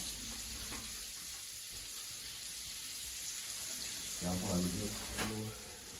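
Crayfish fried in oil in a home kitchen, steady soft sizzling hiss throughout, with a person talking briefly toward the end.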